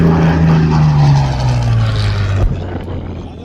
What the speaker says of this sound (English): It has the Allison engine that was originally designed for the P-51.